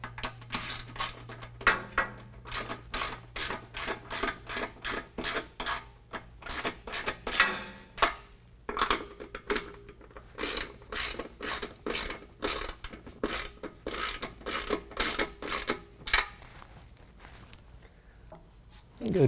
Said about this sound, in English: We're gonna go to one side with a 13mm socket. We're just gonna go ahead and get that snugged up.